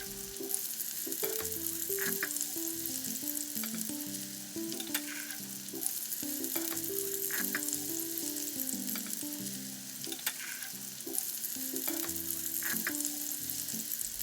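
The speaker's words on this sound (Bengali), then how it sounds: "এবার মাছগুলো দিয়ে দিচ্ছি।" Koral fish frying in a spiced masala, a steady loud sizzle running throughout with occasional soft stirring scrapes and no voices.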